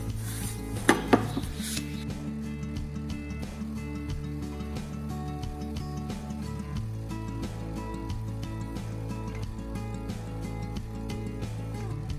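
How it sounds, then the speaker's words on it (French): Polishing a forged kitchen knife blade on a machine gives a steady abrasive whirring hum with rubbing scrapes, and a few metallic clicks near the start. "Donc je vais blanchir la lame et faire du polissage."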